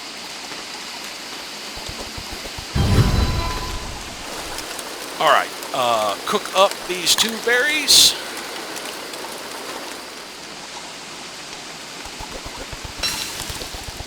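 Steady rain falls across the scene in the survival game Don't Starve, a continuous moderate hiss that runs throughout beneath a man's brief speech.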